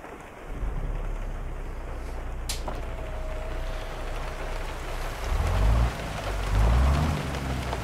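Steady rain drums on a truck cab in American Truck Simulator, a Zeemods N14 Select-engined Kenworth W900, a broad continuous wash with low engine rumble swelling near the end and a brief thin tone midway.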